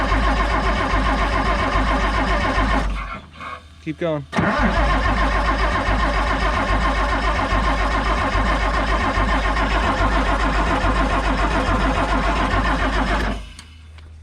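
Engine of a Pettibone crane cranking over and catching, running loud and steady with a brief stumble before settling into a continuous rumbling idle; a voice speaks briefly over it.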